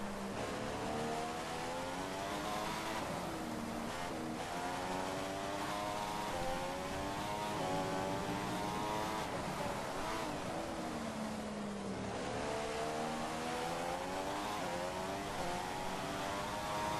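Continuous engine whine of a race car at the Brazilian Grand Prix in a racing video game, driven in the rain on a dry setup; the pitch rises and falls with shifts, steady and loud throughout with no talk.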